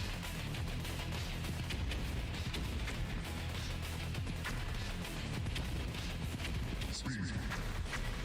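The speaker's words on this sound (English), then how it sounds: "Different pitches for the explosions." Explosion effects in a Godot-built shoot 'em up video game, a dense rapid barrage of bursts and pops at varying pitches running continuously at moderate loudness.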